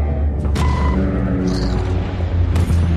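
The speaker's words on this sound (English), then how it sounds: "Bombardment there." Deep, rumbling booms from a bombardment in the game The Bureau: XCOM Declassified, loud low-end explosions rolling continuously with a few sharper bursts on top.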